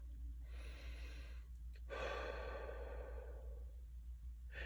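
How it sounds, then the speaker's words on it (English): A slow deep breath taken during a guided inner-child healing visualization, a soft breathy inhale and longer exhale heard up close over a steady low hum, with no talking. "let's take a deep breath"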